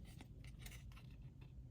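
Scissors snip through paper to cut leaf pieces for a holiday poinsettia, with several quiet, crisp cuts spaced across the moment.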